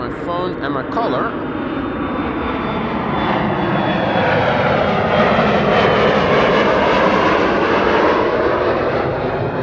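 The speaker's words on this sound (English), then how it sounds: "So, this is an Embraer 175 KLM flight" A KLM Embraer 175 jet airliner departs Amsterdam Schiphol Airport on a sunny winter day, its engines roaring loud and steady throughout, a continuous broad rumble with a faint whine, after brief rustling at the start.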